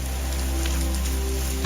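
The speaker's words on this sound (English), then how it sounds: "Now it's raining." Steady rain pours outdoors at a remote stop during the Tour Divide mountain bike race, a dense, constant hiss of drops hitting surfaces close by, with no voices.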